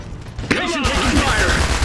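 Gunfire in the Iron Harvest strategy game, a sudden burst of shots and heavy thuds that breaks in after a shouted command and continues beneath overlapping voiced unit lines and battle noise.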